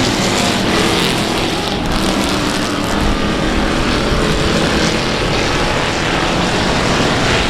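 Race cars roar into the green flag at South Texas Speedway, a loud, dense engine wall that holds steady and close throughout with no break.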